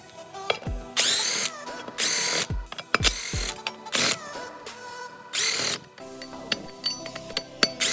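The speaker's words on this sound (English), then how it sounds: "I'm going to take these 5 bolts off." A ratchet and power tool working loose the five bolts holding a brake rotor on a 2015 Ford Transit during a front brake job: several loud bursts of whirring and clicking, close up, separated by short pauses and small metallic knocks, with no talking.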